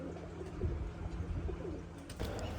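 Pigeons coo softly, low repeated throaty calls over a steady background hum, with a brief rustle or flutter near the end.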